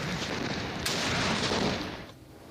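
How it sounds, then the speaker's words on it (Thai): A royal salute of artillery fired on the multipurpose ground of the Navaminda Kasatriyadhiraj Royal Air Force Academy: one heavy, booming shot over a roaring rumble that fades away, with no voices. "ทำการยิงปืนใหญ่เฉลิมพระเกียรติ ณ ลานอเนกประสงค์โรงเรียนนายเรืออากาศนวมินทกษัตริยาธิราช"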